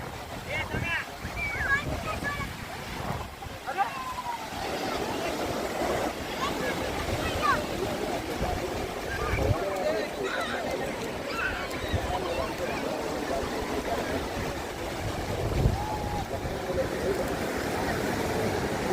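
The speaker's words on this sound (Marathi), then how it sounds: "आपण आता समुद्रावरती आलो बघा लाटा वगैरे कशा सुंदर अशा लाटा" Waves wash ashore at Ganpatipule beach, Ratnagiri, with boats out on the sea, heard as a continuous windy surf roar with gusts buffeting the microphone while people talk.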